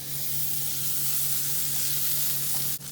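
Two tablespoons of butter sizzle and fry steadily in a pan as the base for a creamy sauce, a continuous close hiss with no one speaking, briefly dipping near the end.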